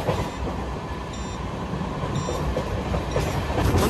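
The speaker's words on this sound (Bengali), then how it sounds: "আমাদের ট্রেন এখন 103-এ চলছে, 102। দেখো স্পিড দেখো শুধু।" Sairang–Kolkata Express on its inaugural special run, travelling at about 100 km/h: a steady, loud rumble of train wheels and carriage noise with faint rhythmic clatter throughout, no voices.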